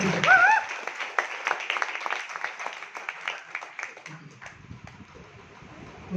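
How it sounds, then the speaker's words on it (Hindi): Scattered clapping rises at the start and thins out over several seconds, with a voice briefly audible at the beginning. "मेरे सर के लिए जोरदार ताली होनी चाहिए।"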